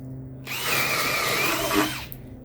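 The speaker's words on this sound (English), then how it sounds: "this drill kicks ass" A power drill whirs loudly for about a second and a half, starting abruptly, holding a steady whine, then cutting off.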